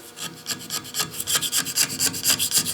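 Old glue being scraped off a Delta sander at an auction, a rhythmic series of rapid rasping strokes, close and fairly loud, with no talking.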